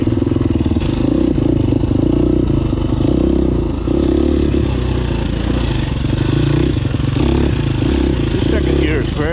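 A KTM 350 SXF four-stroke dirt bike riding a trail in second gear, its loud engine droning steadily close up with clattering and scraping from the terrain, while a rider talks over it.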